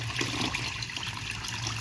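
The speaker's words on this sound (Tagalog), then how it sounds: "Ang una natin gagawin para sa ating malagkit ay hugasan natin." Glutinous rice being washed in water for Valenciana, a brief burst of sloshing and trickling water, close and steady, no talk.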